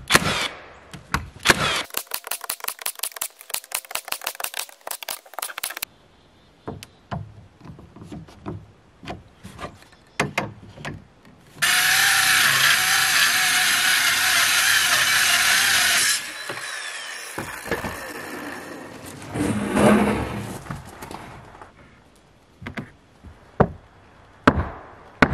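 Floor panels of a tiny cabin bunkhouse are nailed down with irregular bursts of sharp, close wooden strikes, broken by a few seconds of steady harsh noise and quieter gaps.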